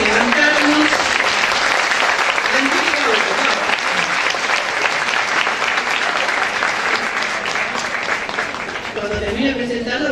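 Audience applause for a speaker at a CONSUDEC conference session, a loud, steady burst of many hands clapping that fills the hall for about ten seconds, with a few voices mixed in near the end.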